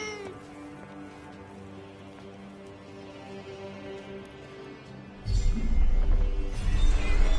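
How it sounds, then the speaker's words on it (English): In the Forspoken video game, a cat meows a few times, drawn-out and fairly clear over a low ambient hum, before a louder rumbling swell of game sound takes over. "A cat."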